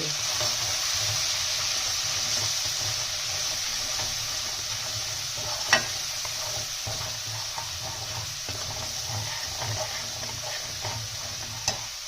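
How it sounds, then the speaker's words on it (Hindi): Red chilli powder, turmeric and garam masala cooking in a pan, with a steady, even hiss of frying and a couple of faint clicks of a utensil, close and continuous, no voices. "अब इन मसालों को हम अच्छे से इसमें पकाएंगे"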